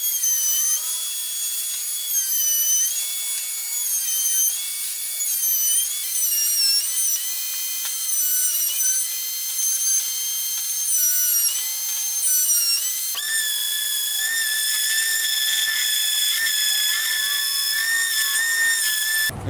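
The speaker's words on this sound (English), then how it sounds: "I've got a 3/8 inch round over bit in there, and I'm going to go over all the edges on this board" A router fitted with a 3/8 inch round over bit runs steadily along the edges of an end grain purple heart and maple cutting board, a continuous high whining cut that shifts pitch partway through, with no talk.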